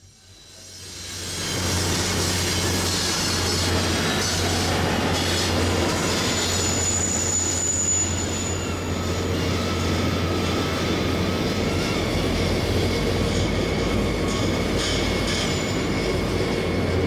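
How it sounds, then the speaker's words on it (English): A CN freight train led by an SD70M-2 crosses the Red River and rolls past on the south track, a loud continuous rumble of wagons with rail squeal and clatter. The sound builds within the first two seconds and then holds steady to the end. "you can actually see a CN freight train right on its tail coming across the Red River"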